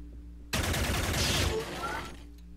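Automatic gunfire in the video game Xenonauts, a single loud rapid burst of about one second followed by a fading tail, with faint background music and someone speaking.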